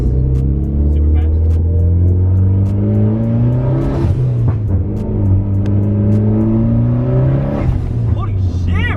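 A Nissan 350Z engine revs hard and loud up close, pitch climbing steeply through two surging pulls with a brief drop between, while people talk excitedly over the roar.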